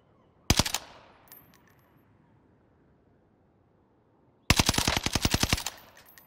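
Two bursts of rapid automatic gunfire from Call of Duty Warzone, a short loud volley followed by a longer sustained string of evenly spaced shots after a quiet pause.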